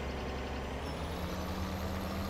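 A 9RT tractor in a farming video game, a loud steady diesel engine drone with a low rumble and a continuous hissing brake tone, unbroken throughout.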